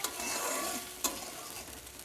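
Spice paste for a Bangon fish methi malai fries lightly in a pan, giving a steady close sizzle with stirring scrapes throughout and one brief sharp clink partway through.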